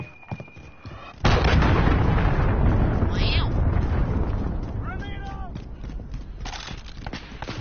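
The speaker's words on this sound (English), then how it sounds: "Allied cruise missile away." A cruise missile strike in Modern Warfare hits with a sudden, loud roaring blast that rumbles on and slowly fades, with brief clatter and gunfire-like pops afterward.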